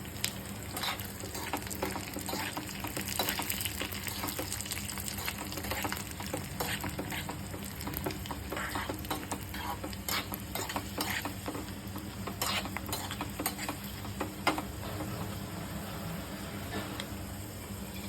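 Mustard seeds, chana dal and dried red chillies fry in hot oil with a steady close sizzle and crackle, interrupted by scattered light pops and the scrape of stirring, all without speech.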